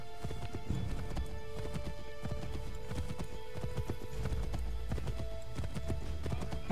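Horse hooves clip-clop in a steady trotting rhythm in Assassin's Creed 3, a continuous, moderately loud beat with no talk over it.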